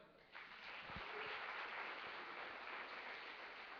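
A church congregation applauding, a faint, distant, dense wash of clapping that starts abruptly and continues evenly, recorded from a webcam.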